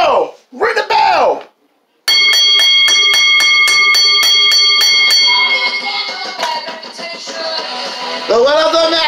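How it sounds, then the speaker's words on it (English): Ringside bell clanging rapidly at the end of a women's Knockouts Championship wrestling match, a dozen or so bright metallic strikes ringing over a loud arena crowd, with a commentator talking just before and an announcer starting up afterward. "Ring the bell."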